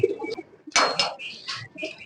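Flying pigeons, including Silver and Beji breeds, coo softly in a loft garden of some 250 birds, with a brief clatter and a voice talking over them.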